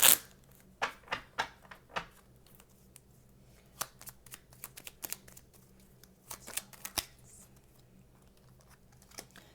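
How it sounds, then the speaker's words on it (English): Tarot cards are shuffled by hand in quick crisp bursts of riffling and snapping, close and clear against a quiet room. "One more shuffle and then we'll get started pulling."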